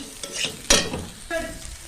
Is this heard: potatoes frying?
yes